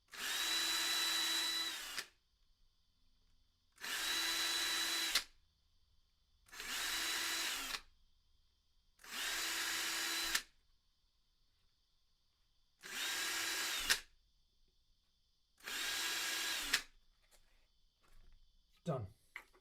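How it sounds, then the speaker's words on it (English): A freshly charged cordless power drill bores into a guitar neck down to the tape in six steady bursts of about two seconds each, with short quiet gaps between them and a faint voice near the end. "Drill down to the tape."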